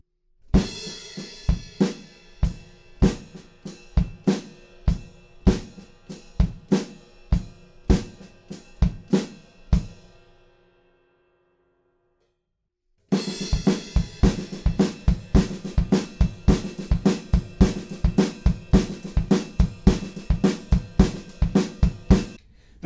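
A drum kit plays a steady groove with a busy ride cymbal pattern and punchy kick and snare hits. It stops for a few seconds of silence, then comes back in fuller and louder.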